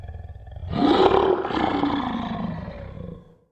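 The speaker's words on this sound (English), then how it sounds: "they were able to hear the terrible roar with perfect clarity" A terrible, deep roar erupts from beneath a floor, loud and close, swelling quickly and then sustaining a harsh, growling bellow for about two and a half seconds before cutting off into silence.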